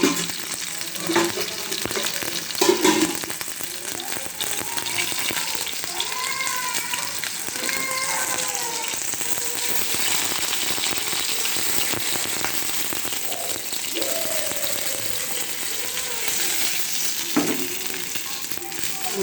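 Broiler chicken frying in oil in a pan with tomato, a steady loud sizzle with stirring clatter, and water added partway that swells the hissing, with no talk.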